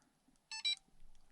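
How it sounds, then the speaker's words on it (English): A DumboRC RC receiver's low-voltage alarm gives a brief, faint electronic chirp of two quick bright tones, isolated against near silence, signalling a depleted LiPo battery. "the alarm starts and you should stop and change your LiPo"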